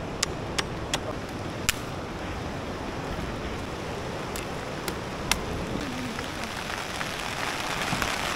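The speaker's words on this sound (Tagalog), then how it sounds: "habang nagsiset up tayo, inabot tayo ng ulan" Steady rain falls at a wild beach campsite, a dense, continuous patter with sharp raindrop ticks scattered through it and no voices.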